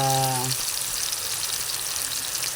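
Onion and garlic sizzle in hot oil in a pan as the base for Filipino chicken adobo, a steady close frying hiss throughout with a brief tonal hum at the start.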